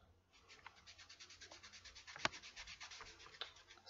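Rhythmic back-and-forth scrubbing of a glittery makeup look being rubbed off, a steady rapid rasping stroke repeating close up throughout, with one brief sharp click midway.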